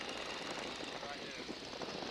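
Steady drone of a Boeing Stearman biplane's engine in flight as power is eased back, a dense continuous roar with wind rush filling the cockpit and a voice talking faintly underneath.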